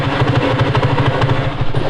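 TVS Apache RTR 180 motorcycle engine idling after carburetor and petrol tank cleaning, a steady close low throbbing putter with even pulses and no misfires, running alone.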